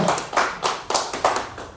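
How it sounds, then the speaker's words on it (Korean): An audience at a Korean coaching seminar clapping in rhythmic bursts, five or six loud, evenly timed waves of many hands in under two seconds. "박수 치려면 확실히 치십시오."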